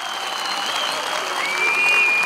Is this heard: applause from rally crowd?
yes